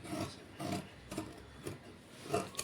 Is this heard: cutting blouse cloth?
yes